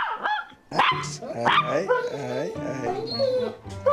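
A tiny puppy recovering from bone implant surgery barks and yips at another dog in rapid, high-pitched bursts with whimpering between them. A person speaks briefly over the noise.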